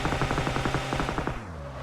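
Rapid automatic gunfire in a multiplayer shooter game, a fast, even burst of about twenty shots over a second and a half, loud and close, stopping abruptly and leaving a low hum.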